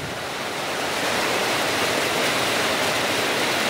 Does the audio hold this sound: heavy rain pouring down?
yes